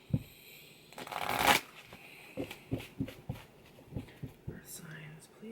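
Oracle cards shuffled by hand, a loud riffling burst followed by a series of soft, rhythmic taps and slides as the deck is worked, close up, with faint speech around it.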